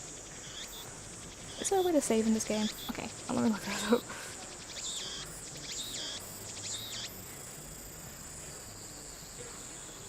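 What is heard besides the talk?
loud cicadas in video game Steins;Gate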